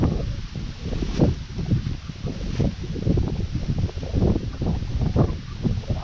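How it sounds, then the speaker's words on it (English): Strong gusty wind buffets the microphone outdoors at a bushcraft deer blind build, with continuous low rumbling bursts rising and falling across the whole stretch and no other clear sounds. "stupid wind"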